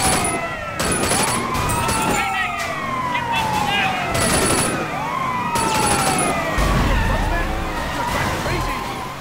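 Police sirens wail continuously during a car chase in the video game Sleeping Dogs, several overlapping sweeping tones rising and falling, loud and close, with engine and road noise underneath.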